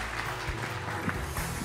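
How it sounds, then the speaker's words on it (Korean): A studio audience bursts into brief, warm applause at the finale of a televised school-principal competition, a short dense burst of clapping. "여러분 큰 박수 보내주시기 바라겠습니다."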